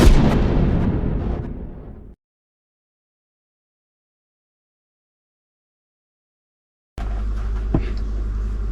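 A loud revolver bang sound effect opens a video intro, a heavy booming crack that rings out and fades over about two seconds into complete silence before other sound resumes.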